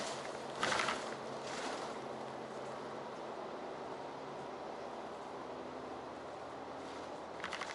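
Inside a city bus riding through a suburban area, a steady low engine drone and road rumble fill the cabin, with a short rattling bump near the start and faint clatter at the end.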